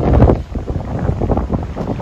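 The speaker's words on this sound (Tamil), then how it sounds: "காத்துன்னா காத்து எப்பா நின்னாலே அப்படியே தள்ளுது, அந்த அளவுக்கு அடிக்குது காத்து" Strong wind blowing across an outdoor cricket ground, a loud, continuous buffeting roar on the microphone with gusting surges and no clear speech.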